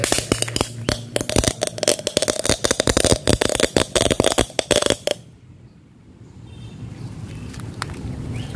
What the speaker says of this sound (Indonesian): yang terakhir kita cobain petasan telur komodo dimasukin ke dalam kaleng